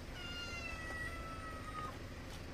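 A hungry rural cat meows faintly in long drawn-out cries, distant and partly buried under a steady broadband hiss.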